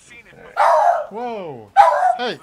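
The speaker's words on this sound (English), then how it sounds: "Oh, that's a dog." A dog barks loudly into a microphone during a Destiny 2 group voice chat, two sharp, close yelping barks separated by a pause, with a voice talking briefly between them.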